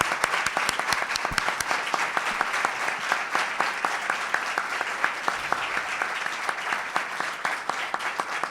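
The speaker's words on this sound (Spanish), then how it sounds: "Y les pido un aplauso." Steady audience applause with many hands clapping densely and evenly throughout, moderately loud and continuous with no talk over it, at a Spanish-language event honouring a family campaigning for someone's freedom.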